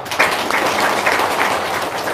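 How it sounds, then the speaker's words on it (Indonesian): Listeners at an Indonesian testimonial seminar break into applause, a loud, continuous patter of clapping hands with slight swells, heard alone for about two seconds. "Tepuk tangan dong."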